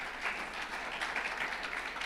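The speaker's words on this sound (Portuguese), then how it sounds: "Você pode dar um aplauso bem forte ao Senhor?" A church congregation gives a short burst of applause, a dense, moderately quiet patter of many hands clapping for about two seconds.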